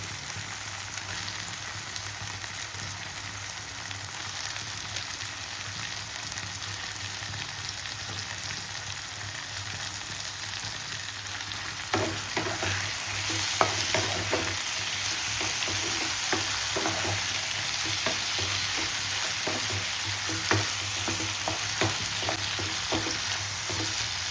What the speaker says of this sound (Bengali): আদা বাটার পরে আমি টমেটোগুলো দিয়ে দেবো।